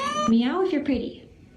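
A cat gives one clear, drawn-out meow with rising and falling pitch, close and fairly loud, fading into quiet afterward.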